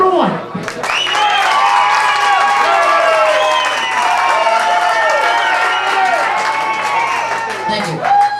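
A festival audience at a singing contest claps for contestant number one, with loud sustained applause mixed with cheering, whoops and excited voices throughout.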